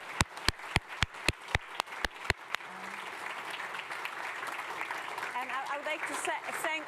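Clapping from an audience at the close of a conference session on rebuilding Ukraine, starting as a few sharp separate claps and swelling into steady applause, with a voice coming in faintly near the end.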